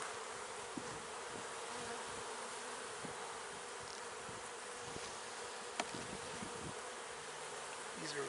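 Honeybees buzz steadily around open hive frames packed with nectar, a dense continuous drone close by with faint individual bees passing near.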